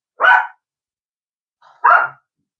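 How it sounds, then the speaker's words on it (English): Two loud, sharp barks from a small Yorkshire Terrier puppy indoors, close to the microphone, separated by about a second and a half of silence. "Guys, excuse my dog."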